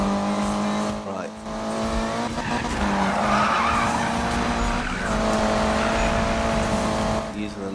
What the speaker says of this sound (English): Using the nitrous there to bring it out the drift there.